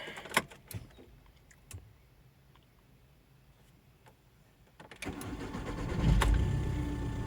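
A Volkswagen Caddy 1.9 TDI diesel cranks on a hot start, a few faint clicks followed by a louder rising engine rumble near the end after a quiet stretch.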